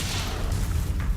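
The Confringo spell exploding in Hogwarts Legacy, a deep, rumbling boom that fills the whole moment with a heavy low blast.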